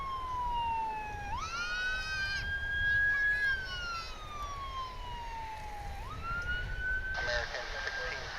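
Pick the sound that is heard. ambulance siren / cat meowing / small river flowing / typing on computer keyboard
ambulance siren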